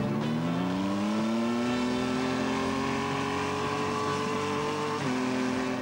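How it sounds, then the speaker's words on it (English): A Kawasaki Z1300 motorcycle accelerates hard toward 120 mph, its engine note climbing steadily through the gears with one brief shift dip near the end, loud and continuous. "first he's got to get the bike up to 120 miles an hour"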